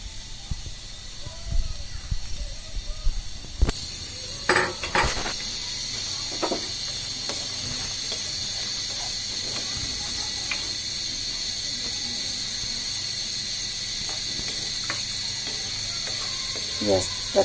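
Onions frying in hot oil for a prawn kofta curry: a steady, broad sizzling hiss throughout, near and fairly loud, with a few scraping clicks early on and speech heard over it.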